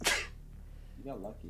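A single sharp sneeze bursts out loud and close at the start during a gaming stream, followed by a short stretch of quiet room noise and then a person speaking briefly.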